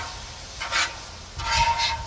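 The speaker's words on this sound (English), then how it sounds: "So I want to cook it in my ginger and garlic to make sure that the shrimp gets all that flavor cooked into it" Shrimp cooking in a pan with ginger and garlic, giving two short bursts of stirring and sizzling scrape against a quiet hiss.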